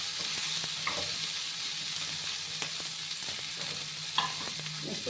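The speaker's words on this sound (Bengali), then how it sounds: "একটু লাল লাল করে আমি আলুগুলোকে ভেজে নেব।" Potatoes fry in a pan, a continuous soft sizzle broken by several brief scraping stirs, close and moderately quiet, with no talking.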